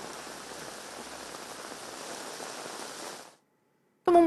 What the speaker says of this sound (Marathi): मुंबईतल्या वांद्रे परिसरात सुद्धा पावसानं हजेरी लावली